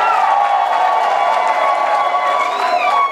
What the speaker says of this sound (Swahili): Piga makofi kwake.